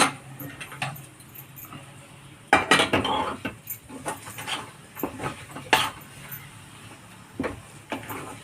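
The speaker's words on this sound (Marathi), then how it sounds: "हे बाय असं घट्ट हलवत राहायचं सारखं, घट्ट होईपर्यंत." A spoon stirring thick gram-flour batter in a metal pan, cooked until it firms up for traditional Maharashtrian patwadi: soft scraping and scattered clinks against the pan, with a few louder knocks, fairly quiet and with no talking.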